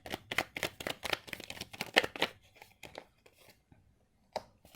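Tarot cards are shuffled and drawn by hand, giving a quick burst of close, crisp riffling and slapping that thins to a few scattered soft flicks and one final snap, with no talk.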